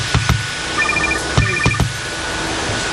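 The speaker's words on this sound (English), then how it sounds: "let's see who's ringing Santa" Santa's telephone rings at the North Pole on Christmas Eve, giving two short bursts of electronic trilling with a pause between them. The rings are close and clear against a quiet room.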